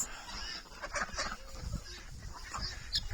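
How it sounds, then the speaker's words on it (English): A large flock of farm ducks, including Indian runners and khaki Campbells, quacking and honking continuously in a busy overlapping chorus at moderate distance. "big old herd of ducks over here. We have Indian runners, we have khaki Campbells"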